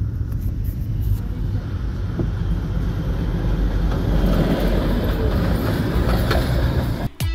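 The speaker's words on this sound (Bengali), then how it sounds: "টয় ট্রেন ঢুকছে।" Darjeeling toy train arriving, a steady heavy rumble of rolling rail cars filling the scene throughout, loud and continuous before a brief break near the end.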